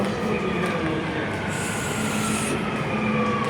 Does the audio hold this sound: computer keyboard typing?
no